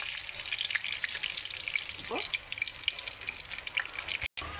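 Dried red chilies, bay leaf and whole garam masala frying in hot oil, a steady crackling sizzle with a faint tick of stirring midway and a momentary cut near the end.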